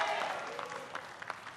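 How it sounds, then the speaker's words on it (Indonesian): Applause from the audience at a televised Indonesian presidential and vice-presidential candidate debate: a short tail of crowd clapping that fades to scattered, distant claps. "Boleh hadirin untuk memberikan tepuk tangan yang paling meriah untuk kedua pasangan calon"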